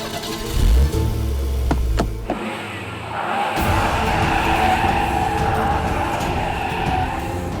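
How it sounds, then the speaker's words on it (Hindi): A car engine cranks and sputters loudly, then drops out before a steady mechanical hum with a bright whine settles in and continues to the end. "अब हमें लगता है स्टार्ट हो जाएगी।"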